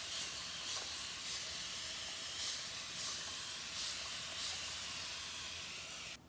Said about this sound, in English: First things first, my handy dandy spray bottle of water.